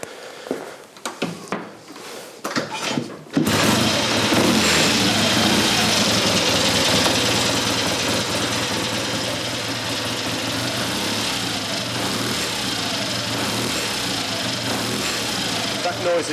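A classic Triumph Tiger 350 motorcycle engine started after a few seconds of talk and handling noise, then catching and idling loudly and steadily nearby in a workshop until the end.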